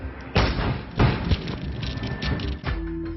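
An explosion blows down the iron gate of a transport company, heard from a building across the street as heavy booming thuds and rumbling, with rattling and lingering noise afterward.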